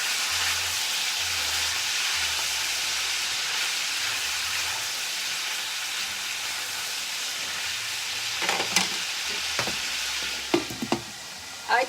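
Cajun sausage and vegetables sizzling steadily in a frying pan, a loud continuous hiss, then a few scraping clatters near the end as a utensil stirs the food. Nobody speaks.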